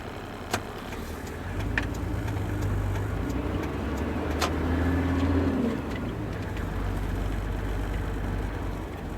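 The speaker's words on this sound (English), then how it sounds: "Of course there's more bloody traffic here" Road traffic passing near a roadside service station, with a low engine rumble swelling as vehicles go by and occasional clicks and knocks over a continuous hum.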